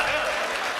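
At a Hindi kavi sammelan poetry gathering, an audience claps in a dense, steady burst of applause that fills the whole short moment, with faint talk underneath.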